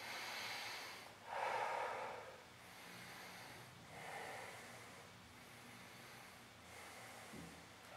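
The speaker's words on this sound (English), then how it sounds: "I'll take a couple of breaths" A person resting during a core workout takes a few deep breaths. Each is a soft, close, airy inhale and exhale, spaced a couple of seconds apart, with no speech.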